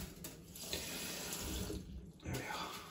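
Water runs steadily from a tap into a container to soak carp fishing bait, a continuous gushing splash with small shifts in flow and no talk over it.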